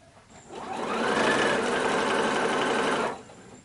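A sewing machine runs in one steady burst, stitching wavy quilting lines, close and evenly paced, starting and stopping cleanly with no talk.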